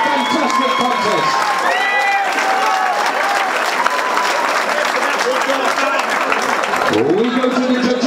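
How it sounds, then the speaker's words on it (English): A boxing crowd at a bout between two young boxers bursts into loud, sustained applause and cheering, with a ring announcer's amplified voice carrying over the clapping throughout. "Please give a big round of applause to both young boxers there."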